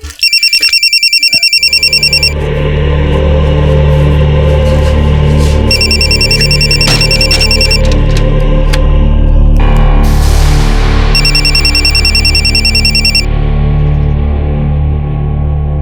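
A telephone rings loudly in repeated electronic trill bursts, three rings separated by gaps, over a heavy droning dramatic music bed in a crime drama scene.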